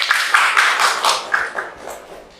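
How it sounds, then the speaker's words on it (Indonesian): A short burst of classroom applause for students, brisk overlapping claps close by, starting strong and thinning out over a couple of seconds. "Tepuk tangan dulu untuk semua."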